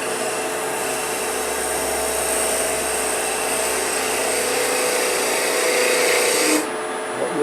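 A woodturning lathe spins at full speed, a steady high-pitched whirring hum that runs continuously and loud, with a slight change in tone near the end; no talking over it.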